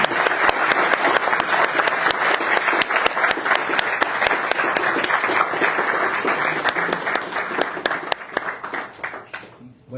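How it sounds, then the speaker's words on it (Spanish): Dense, steady audience applause at a legal conference on defense litigation strategies for an initial hearing, a full room clapping continuously up close, then thinning and tapering off near the end. "Les pido un aplauso para el señor."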